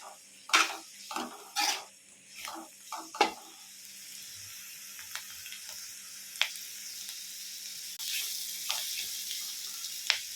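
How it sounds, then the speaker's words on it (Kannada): Spices and masala fry in a little oil for capsicum rice. A quiet, steady sizzle runs under a few sharp stirring clinks and scrapes near the start, and it settles into a soft, even hiss. "ನೋಡಿ ಈ ಥರ ಸ್ವಲ್ಪ ಎಣ್ಣೆ ಬಿಟ್ಟರೆ ಅದು ಮಸಾಲೆ ಎಲ್ಲ ಕೂಡ ಚೆನ್ನಾಗಿ ಫ್ರೈ ಆಗಿದೆ ಅಂತ."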